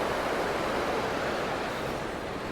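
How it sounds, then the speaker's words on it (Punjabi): Steady, loud roar of a rushing mountain river, a continuous broad whoosh with no pauses, close by and with no voices. "ਇਹ ਦੇਖੋ ਕਿੰਨੀ ਜ਼ਿਆਦਾ ਆਵਾਜ਼ ਆਉਂਦੀ ਆ ਪਾਣੀ ਦੀ"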